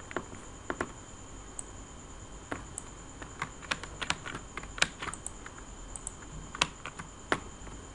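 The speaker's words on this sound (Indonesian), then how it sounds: "Kita ketikin satu-satu." Keys clack on a computer keyboard in scattered, irregular taps, fairly close but soft, over a faint steady background hum.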